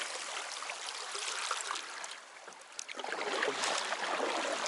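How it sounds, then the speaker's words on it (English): Steady broadband rush of a waterfall on northern Waiheke Island, fairly close and continuous, swelling slightly louder toward the end with no voices. "And there's another waterfall there."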